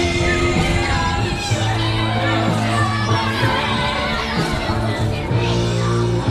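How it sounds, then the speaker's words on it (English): A Little League baseball crowd at the New York State championship yells, whoops and cheers for the state champions, loud and close, with shouting voices and scattered clapping carrying through the whole stretch. "Nice round of applause for our state champ."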